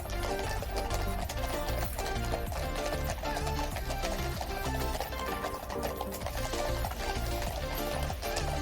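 Horses of the King's Lifeguard riding from Hyde Park Barracks through Hyde Park Corner, hooves clip-clopping in a steady, busy rhythm on the road, close and loud amid outdoor street noise.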